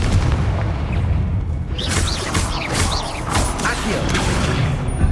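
A Confringo fire spell blasts in the Hogwarts Legacy video game, a dense roaring wash of booming impacts and crackling magical bursts layered over continuous game noise and music, loud and steady throughout.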